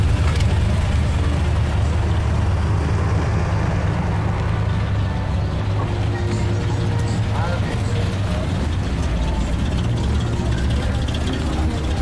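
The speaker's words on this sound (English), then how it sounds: "Just listen to some of these muscle cars." Mopar muscle cars, a Plymouth Belvedere among them, idle and rumble steadily at a morning Mopar club car show in Tucson, Arizona, a dense low engine drone filling the scene with crowd chatter mixed in.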